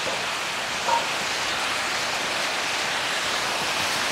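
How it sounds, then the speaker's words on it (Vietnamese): Steady, dense hiss of rain pouring continuously, broad and even throughout with no pauses. "Trời thì mưa rồi đấy."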